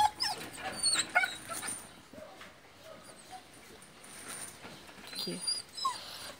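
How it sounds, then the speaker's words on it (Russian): Dogs yip, whimper and bark in short, high, scattered bursts, fairly close but not loud, with people talking faintly in the background. "Собаки."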